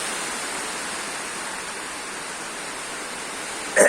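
Heavy rain driven by strong wind in a Kerala downpour: a dense, even broadband roar of rainfall throughout, ending with a brief louder gust or rustle at the very end.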